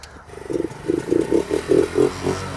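An engine revs in a quick series of short, throaty pulses, rising and falling rhythmically, close by with a steady low rumble underneath.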